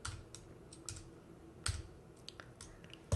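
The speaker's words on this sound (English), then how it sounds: "I can just type in my name, first part of my name at least" Scattered keystrokes on a computer keyboard as a name is entered, a quiet, irregular patter of clicks with short pauses and one sharper tap near the end.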